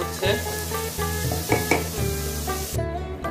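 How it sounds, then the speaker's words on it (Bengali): Beef and rice biryani sizzles and fries in a large pot while a utensil stirs and scrapes through it in several rough strokes, loud and close, with no voices. "বিরিয়ানি হবে, এখন রান্না হবে।"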